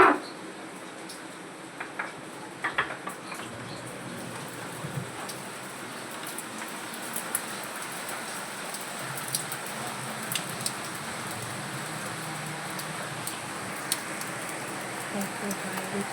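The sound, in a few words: heavy rain falling outside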